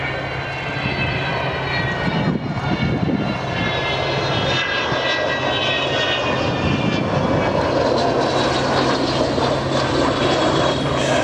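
An Avro Vulcan bomber flies past at an air show with a steady, loud engine roar and a rising whine, continuous throughout with no voices.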